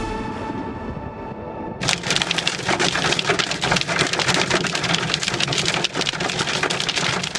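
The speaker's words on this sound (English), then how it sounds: "a massive hailstorm that started pounding parts of the metro area late this afternoon" A massive hailstorm pounds down on the Atlanta metro area in April, starting abruptly as a loud, dense roar of hard impacts with sharp cracks, following a quieter tonal passage at the start.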